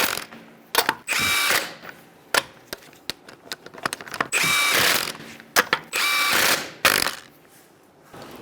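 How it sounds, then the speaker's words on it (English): A ratchet or power tool snugs the lug nuts on a 2010-2013 Kia Soul front wheel, heard in several close bursts of rapid clicking and whirring separated by short pauses and metallic taps. "Start our lug nuts. You're going to snug these down in a star-like pattern."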